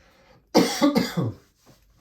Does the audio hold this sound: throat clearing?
yes